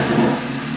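Audi RS3 engine running at idle, close and steady with a low, even rumble, heard only briefly.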